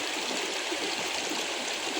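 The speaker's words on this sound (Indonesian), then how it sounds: "Jadi dua sungai ini bertemu di sini." Rushing river water flows steadily where two rivers meet near the Cangar bridge, a dense, continuous close roar with no voices.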